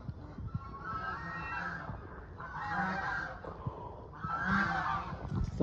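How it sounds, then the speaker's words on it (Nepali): Geese honk in several loud, nasal bursts at a farmyard pen, fairly close, with low rustling and background noise between calls. "यस्तो हाँसा रहेछ है।"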